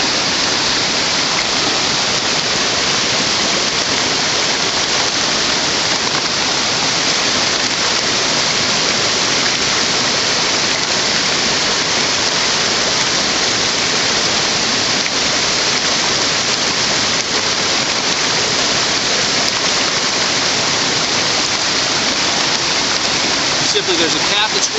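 A clean mountain stream flows strongly while a water bottle is filled from it, a loud, steady broadband rush with no pauses throughout.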